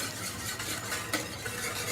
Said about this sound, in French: Maintenant, on va verser le fond blanc de volaille froid. Allez, vas-y, mélange.